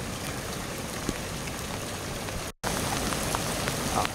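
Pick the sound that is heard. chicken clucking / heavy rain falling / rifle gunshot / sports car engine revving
heavy rain falling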